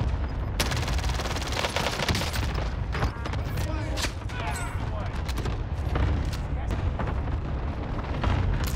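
In the Warzone video game, rapid gunfire and explosions crackle and boom almost without pause, a dense battlefield barrage of shots and blasts at varying distances.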